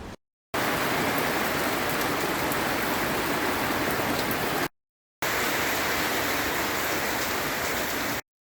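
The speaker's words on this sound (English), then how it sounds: "the sound of rain, the sound of the blustery wind" Steady heavy rain and blustery wind at a steel sailing yacht build site: rain hisses continuously, a dense even patter with a gust-like roar underneath, broken by two brief silent gaps.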